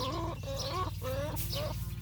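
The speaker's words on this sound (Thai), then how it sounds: "อันนี้ก็ไก่นะคะ" Chickens in a coop, layer hens now retired from laying, give a few close, throaty clucks and warbling calls over a steady low hum.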